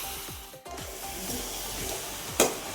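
Quail curry frying in a pan and being stirred with a spoon, giving a steady oily sizzle broken by repeated scraping strokes and one sharper clatter near the end, with no voices.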